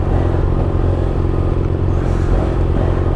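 A BMW F800 motorcycle engine drones loud and close, its rumble holding steady and rough without a clear rising rev, no voices over it.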